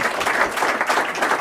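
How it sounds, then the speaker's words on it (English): Audience applause from a crowd at a ChooseWell political event, dense, loud clapping sustained evenly through the brief moment with no talk over it. "That deserves an applause, by the way."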